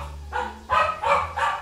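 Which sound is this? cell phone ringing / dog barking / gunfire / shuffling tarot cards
dog barking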